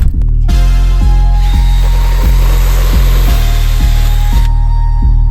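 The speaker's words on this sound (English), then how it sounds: "drilling some access holes in the back using some starret cutters" A drill turns Starrett cutters through foam board to bore access holes, a loud continuous whir with a rhythmic pulsing thump repeating about every half second.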